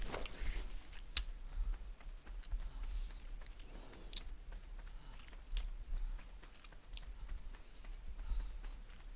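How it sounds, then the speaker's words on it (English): A person chews a sweet: faint, close, irregular wet mouth clicks and smacks over a low background hum. "Sorry if you can hear me chewing, but I'm chewing a sweetie"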